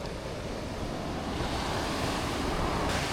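Ocean surf rolling onto Thornhill Beach, a steady close wash of breaking waves with some wind rumble on the microphone, continuous and fairly loud throughout with no voices.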